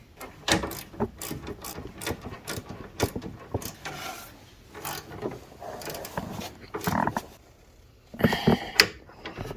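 Ratchet socket wrench snugging down 13 mm bolts during an A/C repair on a 2013 Ford E-250 van with the 4.6L engine, heard as repeated quick clicking bursts of ratcheting with clinks of metal, close and moderately loud, no talking.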